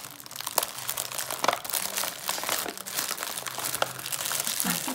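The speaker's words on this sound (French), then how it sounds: "Tire tout fort là le papier pour ouvrir." Wrapping paper torn open on a present full of toys, sealed with lots of tape, giving steady close crinkling and crumpling with a few sharper rips through the whole stretch.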